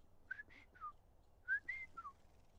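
A person whistles an imitation of a bird call: two short phrases of three rising and falling tones each, separated by a pause, clear and close against a quiet room.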